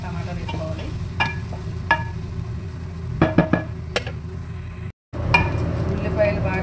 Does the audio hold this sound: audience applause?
no